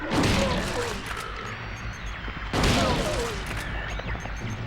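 Two heavy shotgun blasts in Silent Hill 2, each a loud booming crack with a long rumbling tail, spaced a couple of seconds apart over dark ambient noise.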